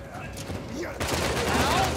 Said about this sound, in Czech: A už se střílí ostrejma